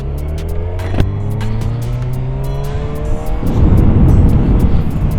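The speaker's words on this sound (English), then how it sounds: "The bike's running smooth though." A Suzuki GSX-R 600 K8 sport motorcycle is ridden on the road, its engine droning steadily with rising and falling tones, joined by louder wind and road rush toward the end.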